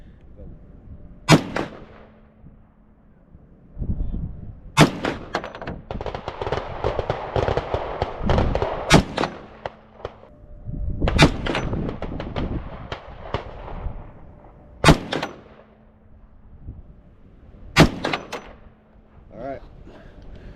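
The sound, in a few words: 458 SOCOM AR15 rifle shots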